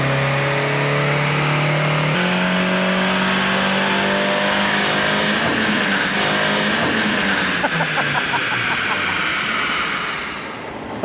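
A tuned 20-year-old Audi TT with a boost controller turned up accelerates hard, its engine note climbing steadily through the revs, loud and close, with shifting pitch and some talk underneath.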